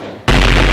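New Year's Eve fireworks burst at Tugu in Yogyakarta: after a quiet murmur of crowd noise, one sudden, very loud, close blast fills the air and its roar holds.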